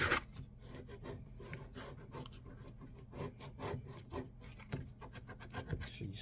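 Vinyl decal being rubbed and squeegeed down onto a surface, producing a quiet run of short scraping strokes in an irregular rhythm, close by with no talk.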